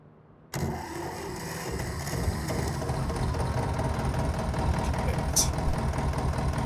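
A vintage Zetor tractor engine catches and settles into a steady, rumbling idle, close and continuous, with a brief bright rattle partway through and no talking.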